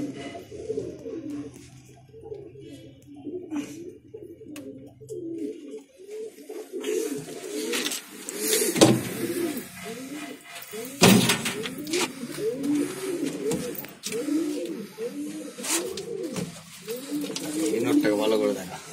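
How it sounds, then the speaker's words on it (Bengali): Pulser and Dasu breed pigeons coo steadily in a loft, with repeated soft rolling calls throughout while someone talks over them near the microphone. "এই এক পেয়ার হাড়ুকুটু আমার মন পছন্দ পায়রা হাড়ুকুটু লাইনের পায়রা"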